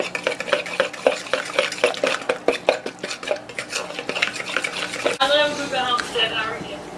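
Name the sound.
mixing pizza topping ingredients together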